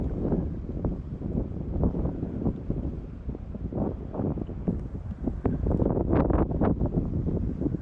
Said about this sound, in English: So the wind is right in my face.